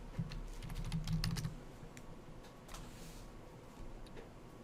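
Short burst of typing on a computer keyboard to enter a login name, a quick cluster of close key clicks that tapers into a few scattered taps, no talking.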